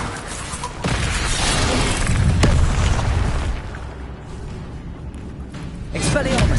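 An Incendio fire spell goes off in a Harry Potter game, a loud whooshing burst with a sharp crack, rumbling on for a couple of seconds before easing, then another surge near the end as other spells sound.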